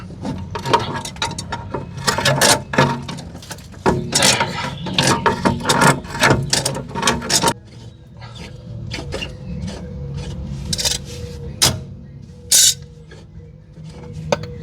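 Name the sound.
ratchet wrench undoing a nut on a BMW X5 suspension arm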